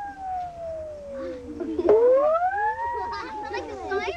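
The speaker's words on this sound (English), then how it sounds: "I'm going to hit the saw" A saw struck with a ball on a stick rings out in long, wavering tones that glide down and then up like a siren, the strike landing midway and the sound staying loud and close.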